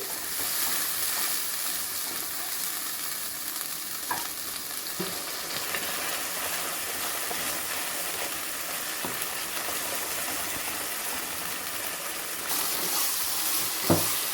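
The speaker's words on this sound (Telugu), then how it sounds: "ఈ మసాలా బాగా ఫ్రై అవ్వాలి. దీంట్లో ఉన్న ఆయిల్ అంతా సపరేట్ అయ్యేంత వరకు బాగా ఫ్రై చేసుకోవాలి దీన్ని." Coconut masala paste frying in oil with onions in a pan, a continuous close hiss and sizzle with occasional soft stirring clicks, heard alone without talk.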